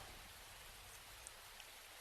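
Heavy rain pours down as a steady, even hiss, quiet and continuous, with no voices over it.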